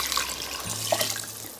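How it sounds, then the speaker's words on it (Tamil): Water poured into a cooking pot for basmati rice biryani, a steady splashing stream running continuously for the short clip, close and moderately loud. "அதனால் 5 கப் தண்ணி ஊற்றுறேன்."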